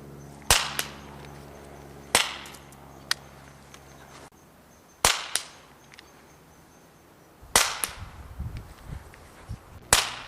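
A Goblin paintball pistol shooting standard .68 caliber paintballs, six sharp, loud cracks spaced a second or more apart, each with a short fading tail, some followed by faint rattles.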